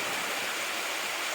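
A river rushes under a small bridge in a steady, loud, close wash of flowing water, with no voices.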